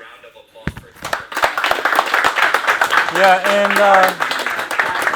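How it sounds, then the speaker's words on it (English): Indoor audience at a sales training event clapping in a scattered round of applause for a colleague, the claps building over a few seconds while someone speaks briefly over them. "So, again, round of applause for Taylor."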